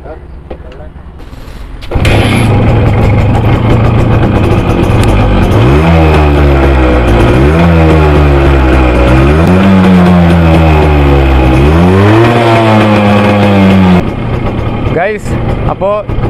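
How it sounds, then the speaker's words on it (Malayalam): A Suzuki Max 100 motorcycle idles and then revs up repeatedly from close by, its exhaust note rising and falling in several loud throttle blips before settling back to idle. "നമുക്കപ്പോൾ അതിൻ്റെ ഒന്ന് എക്സോസ്റ്റ് നോട്ടൊന്ന് കേട്ട് നോക്കാം"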